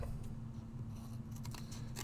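Scissors snipping straight down through craft material, a few quiet cuts over a steady low hum and room tone.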